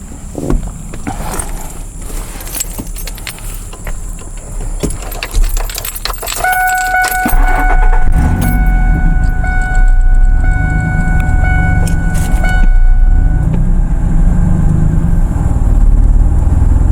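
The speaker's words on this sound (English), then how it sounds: "we're going to start our live vehicle, and we're going to let it run for a few minutes" Keys jangle and rattle up close before a car's engine cranks and starts, then settles into a steady, loud idle as the working vehicle is left running to jump-start a car with a dead battery.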